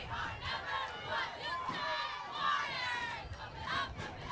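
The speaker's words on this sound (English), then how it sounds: "Because this crowd is ready to go nuts, man." A crowd at a high school football game cheers and roars in the stands, with a dense sustained swell of shouting voices that stays loud throughout.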